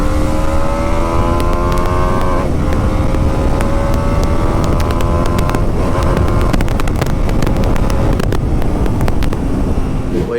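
A BMW G310RR motorcycle ridden in track mode on a road, its engine droning steadily and loudly throughout with rising and shifting tones, mixed with heavy wind rush.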